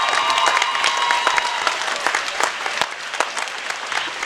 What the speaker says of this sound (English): So a big round of applause for just existing right now.